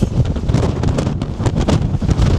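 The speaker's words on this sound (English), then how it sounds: "But this wind" Strong wind buffets the microphone on a rocky mountain hike in Iceland near a glacier and waterfalls, a loud, continuous roaring rumble with gusting surges and no speech.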